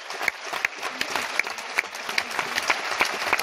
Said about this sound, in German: deswegen ist das dein Applaus